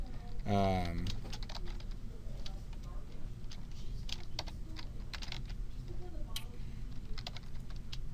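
Caption being typed on a computer keyboard: rapid, irregular close key clicks continuing throughout, after a short burst of talk at the start.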